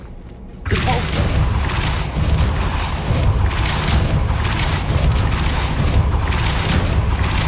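A Depulso force spell is cast in Hogwarts Legacy: a sudden loud booming burst, then a sustained, dense rumbling crackle that stays strong to the end.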